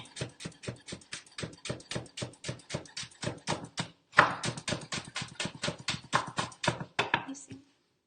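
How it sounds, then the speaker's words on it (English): A knife chops green onion rapidly and evenly against a cutting board, dozens of close, crisp strikes with a brief pause midway before the rhythm resumes. "I'm just chopping up some green onion to put on top of our potatoes"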